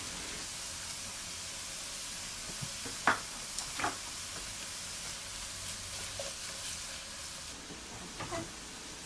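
Diced squash cooking in a pan with tomato paste, a soft steady sizzle and hiss with a few faint stirring scrapes, quiet and close.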